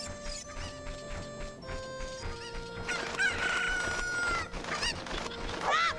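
Chickens in the game The Legend of Zelda: Ocarina of Time give a cock-a-doodle crow and scattered clucks over game music with no talking, closest around the middle and again near the end.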